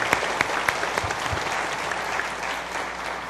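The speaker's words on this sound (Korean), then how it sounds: "박수할 바에는 크게 합시다" A church congregation claps loudly after a sermon, a dense, steady applause with a few sharper claps standing out.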